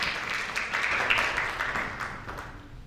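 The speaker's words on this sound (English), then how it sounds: "Can you please give her a round of applause?" Brief applause from a conference audience welcoming a presenter to the stage, a soft, diffuse clapping wash with a gentle swell and decay.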